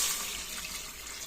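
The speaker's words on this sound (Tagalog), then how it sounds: "Lagyan mo natin guys ang sabaw." Broth poured into a pot of lomi with meatballs, a short bright splashing pour heard close and alone.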